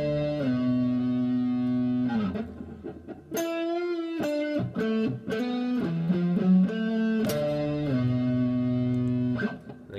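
Electric guitar playing a fast articulation exercise at full tempo, with sustained distorted notes, quick runs of separate picked notes and a few sharp attacks, close and loud, with no talking.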